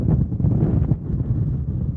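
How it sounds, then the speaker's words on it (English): Steady, buffeting Tropical Storm Ernesto wind roars against the microphone for two seconds at Simpson Bay, St Martin, a low rumbling gust with no voices. "Another gust."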